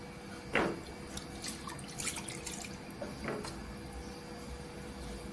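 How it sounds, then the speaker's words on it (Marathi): Water is poured into moong dal for a Marathi-style varan, heard as two brief splashing bursts over a faint, steady background hiss, with no talking. "किती लागेल तेवढं पाणी ओतून घ्यायचं।"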